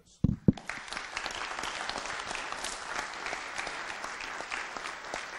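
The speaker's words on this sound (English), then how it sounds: "a big applause to developers." Applause from a conference audience at a LibreOffice project gathering, a dense sustained clatter of many hands clapping that starts abruptly and continues steadily at moderate volume throughout.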